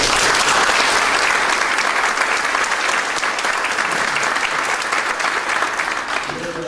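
An audience gives a keynote speaker's guest a sustained round of applause, dense and loud clapping from a large crowd filling the room without a break.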